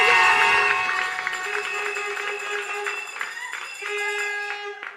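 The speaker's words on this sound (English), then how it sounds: "Make some noise for the CCM." A small outdoor crowd cheers and shouts at a political candidate launch, loud and sustained, with whistles and horn-like tones running through the noise.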